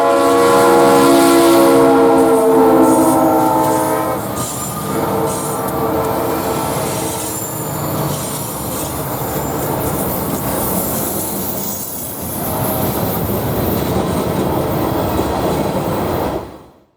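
Buffalo and Pittsburgh freight train led by an EMD SD50-3 locomotive in Salamanca, New York: a loud horn blast opens over the engine's rumble, followed by steady rolling of railcars and wheel noise close by for the length of the pass.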